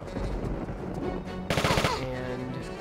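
A rapid burst of about six automatic gunshots in the game Tomb Raider IV: The Last Revelation, at the Great Pyramid, over a steady game music bed with other effects.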